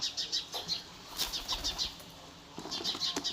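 Pigeons being unboxed after delivery flap their wings in several quick bursts, close and fairly loud, with short pauses between the flurries.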